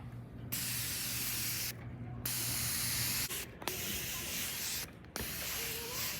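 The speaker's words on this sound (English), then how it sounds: "Now we're going to spray on top of all of my makeup because I know I'm going to burn." Alba Botanica sunscreen spray hissing onto skin in long, loud bursts, about four sustained sprays separated by brief pauses, close up with no talking.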